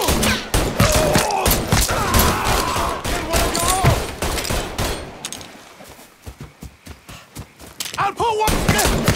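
A shootout in the game Mafia III, dense rapid gunfire bursts with heavy thuds, loud and close, easing briefly before the shooting picks up again, with voices shouting amid the shots.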